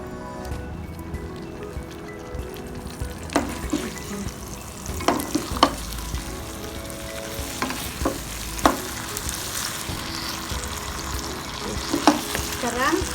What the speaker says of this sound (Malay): Sementara akhir ni saya nak masukkan masala. Masala, lepas tu gaul dia.